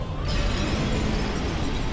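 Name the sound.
dragon boss explosion attack in Dark Souls video game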